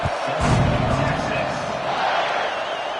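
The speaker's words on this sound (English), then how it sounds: "this crowd is buzzing after that last score" A crowd buzzes in a college football stadium after a score, a broad, steady roar heard at a distance, with a commentator talking over it throughout.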